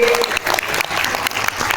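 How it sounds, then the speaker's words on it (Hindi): At an Uttarakhand community association's foundation day gathering, the crowd claps loudly and close for a couple of seconds in a dense, slightly uneven burst of applause welcoming a guest. "तालियों की स्वागत करिए"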